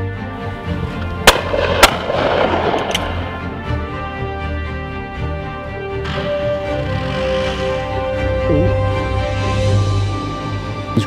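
Shotgun shots ring out at a clay shooting estate in the rolling hills of Derbyshire, two sharp reports close together near the start, then a busy outdoor mix of rumble and chatter without further clear shots.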